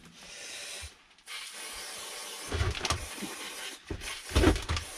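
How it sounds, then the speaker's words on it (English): Brake cleaner is sprayed onto a part of a 2003 Volvo XC90 in a series of close hissing blasts, with short pauses and sharper bursts toward the end. "we'll give it a blast with the brake cleaner"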